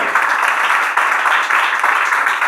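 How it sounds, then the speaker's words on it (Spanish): A church congregation applauds during a Spanish-language service, a dense, even wash of many hands clapping that is loud and continuous throughout. "Yo doy fuerte ese aplauso al Señor."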